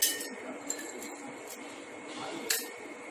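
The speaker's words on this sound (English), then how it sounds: "adding cubes in one glass" Ice cubes clink into a drinking glass during a summer drink preparation, a few bright, sharp taps scattered over three seconds against a quiet room background.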